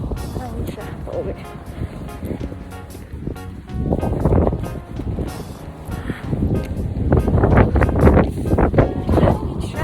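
Strong gusting wind buffets the microphone outdoors during a winter walk after a blizzard, a loud, continuous low roar that swells and builds toward the end, with people speaking under it.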